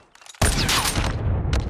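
A sudden burst of rapid, loud gunfire erupts in a team-based online shooter game, sustained dense shots after a quiet start, with a final flurry near the end.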